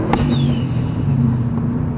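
A 2011 Subaru WRX STI engine pulls hard in second gear, a loud close steady drone from inside the car that holds for a couple of seconds.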